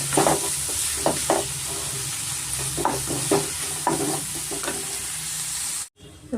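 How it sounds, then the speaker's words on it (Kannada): Onions sizzle steadily in a hot pan with added turmeric and salt, while repeated spoon stirs and scrapes cut through the frying at an uneven rhythm, close and fairly loud; a brief break near the end. "ಈರುಳ್ಳಿನ ನಾವು ಚೆನ್ನಾಗಿ ಫ್ರೈ ಮಾಡ್ಕೊಳ್ಳೋಣ"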